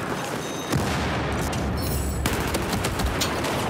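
A Magnum 44 revolver in the video game PUBG, several loud gunshots and booms over dense, continuous battle noise, with no speech.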